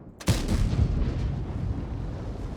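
A tank main gun in World of Tanks fires one loud, close boom, and a long rumbling tail rolls on to the end of the clip.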